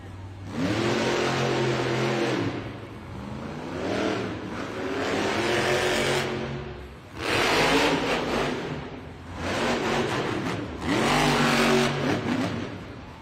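Jurassic Attack monster truck at a Monster Jam arena event in Oakland, its big engine roaring through repeated loud revs that rise and fall in waves, close and powerful, with no talking.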